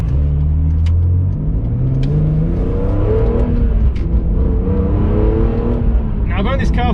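A BMW E46 M3 CSL engine revs hard and builds up loud and near, its pitch sweeping up and down through the gears, with a voice speaking over it.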